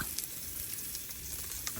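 Food frying in a pan with salt sprinkled in, a continuous crackling sizzle at moderate volume with a few sharper pops, no talking.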